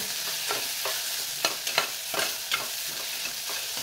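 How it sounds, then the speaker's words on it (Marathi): Soaked dried shrimp sauté in masala for soda biryani, sizzling steadily while a spoon scrapes the pan in repeated close strokes, with no talk. "आता हे सोडे सुद्धा या मसाल्यात थोडेसे परतून घ्यायचे आहेत।"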